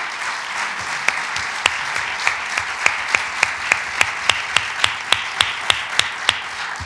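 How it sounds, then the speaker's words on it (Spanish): An audience at a talk applauds people standing on stage, a broad wash of clapping with one nearby pair of hands beating a steady, rhythmic clap above the crowd. "quiero que le demos un fuerte aplauso a ellos porque fueron valientes y están aquí arriba"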